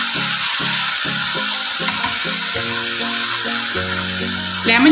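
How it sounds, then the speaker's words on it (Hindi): Beef and spices frying in a pot for Bombay-style beef biryani give a steady, bright sizzle throughout, with soft music playing underneath. "दस मिनट हो चुके हैं इसको भूनते हुए।"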